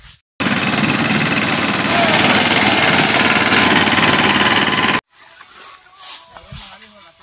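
A paddy harvesting machine runs with a loud, steady mechanical clatter and engine drone for several seconds, then cuts off abruptly, leaving quieter background sounds and faint voices.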